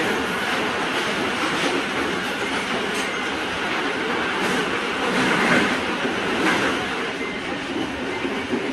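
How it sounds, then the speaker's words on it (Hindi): A passenger train on the Karachi to Rawalpindi line rumbles past close by, a loud, unbroken roar of rolling wheels and rattling cars with faint clacking that swells slightly midway. "दूसरी ट्रेन भी गुजरी"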